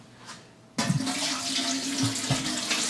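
Kitchen tap water gushing into a stock pot for home brewing an IPA, a sudden strong, steady rush that starts abruptly after a quiet moment and keeps running close and loud.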